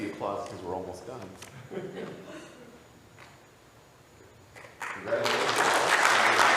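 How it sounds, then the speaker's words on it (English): A voice speaks over a quiet room before a conference closing-session audience breaks into loud, dense clapping that swells and continues to the end. "That's the applause because we're almost done."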